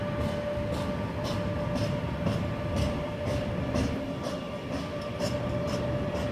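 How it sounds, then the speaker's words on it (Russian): A train rolls past a railway near the former Soviet military town at Jüterbog, Germany, a steady close rumble with evenly spaced clicks of wheels on rail joints throughout. "А мимо пролетают поезда."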